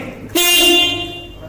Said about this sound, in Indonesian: Kemudian juga ada klakson nih.